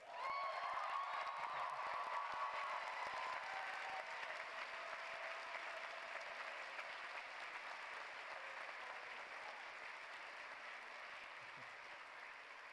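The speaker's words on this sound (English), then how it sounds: "let's clap it out one last time." Sustained audience applause fills a graduation ceremony at Hampshire College, a dense, even wash of many hands that starts full and slowly tapers across the stretch without any talk.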